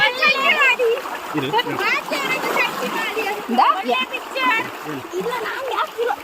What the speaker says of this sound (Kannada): ಎಲ್ಲರೂ ಹೊಳೆಯಲ್ಲಿ ಸ್ನಾನ ಮಾಡ್ತಿದ್ದೇವೆ.